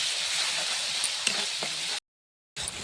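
Ground chili, cumin and coriander powders are fried down in a pan for chicken curry, giving a soft, steady sizzling hiss with a couple of light clinks, cut by a brief silent gap before the sizzle resumes.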